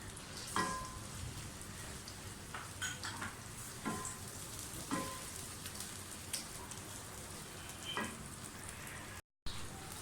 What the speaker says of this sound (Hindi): प्याज को इस तरह फ्राई करेंगे ये पिंक पिंक हो जाए।